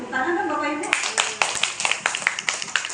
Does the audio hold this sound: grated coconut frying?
no